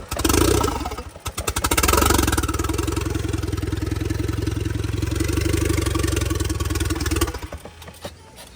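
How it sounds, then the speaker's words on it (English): A Corsa VXR engine idles steadily with a fast, even throb after a couple of revs, then cuts off near the end, at a roadside in the rain. "engine also, it's running spot on"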